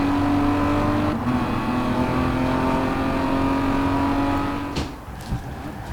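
Racing car engine in the game Rivals, an A Class Falcon Indy car, droning at a steady high pitch with shifting revs, then cutting and dropping near the end.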